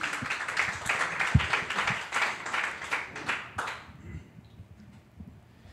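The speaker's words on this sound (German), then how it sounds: "Applaus, Applaus!" A few seconds of steady clapping close by from a live podcast audience, then it stops abruptly and leaves a quiet background.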